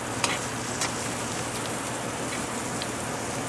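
Mushrooms sizzle and crackle steadily in a hot pan, a dense close frying hiss with a few sharper pops near the start and no voices.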